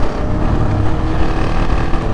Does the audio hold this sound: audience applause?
no